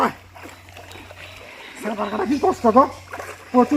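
A person swims in a pond, making irregular splashes and water sloshes that grow busier toward the end, with a voice heard briefly.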